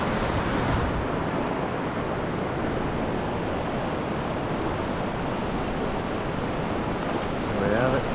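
Fast-flowing river water rushes in a steady, loud broadband roar, close and unbroken, with no pauses throughout.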